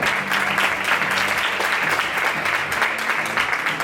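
An audience claps in a thick, continuous burst for a player announced at a women's futbolín all-star game in Lugo, with faint voices mixed into the clapping.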